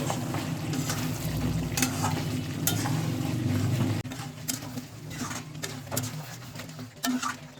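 Mutton sautéed in a pan with chili powder and garam masala, a close sizzle broken by scraping stirs and clattering spoon strokes, with no talking.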